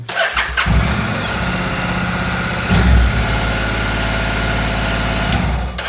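A Honda NC700 motorcycle engine cranks and catches on its original key, then settles into a steady, loud idle with a short rev surge partway through.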